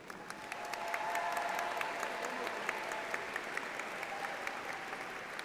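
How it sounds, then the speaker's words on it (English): Graduation ceremony audience applauding doctoral graduates: dense, steady clapping from a large crowd, rising quickly and holding at an even level with distinct individual claps standing out. "join me in extending another round of applause for our doctoral graduates"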